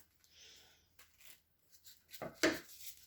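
Scissors cutting paper strips for library pockets: a few faint, scattered snips and rustles, ending with one sharper, louder cut near the end.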